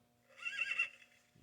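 A Fisher-Price farm toy plays a short electronic horse neigh, a single whinny of about half a second, faint and tinny, with a steady electronic hum and no talking.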